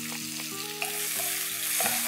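Crushed green chilies sizzle in hot neutral oil as the base for mooli ki sabzi, a steady close crackle running beneath background music.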